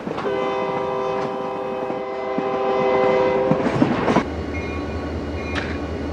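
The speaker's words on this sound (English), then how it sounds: "we took the train back over to Osceola and did another run-by" A loud, sustained horn blares as a freight train led by a Great Northern SDP40 locomotive rolls past, followed by rumbling wheels and a clack of cars continuing after the horn stops.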